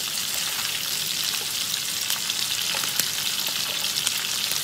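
Pork kidneys pan-frying make a loud, dense, continuous sizzle with crackly pops scattered through it, close and with no voices over it.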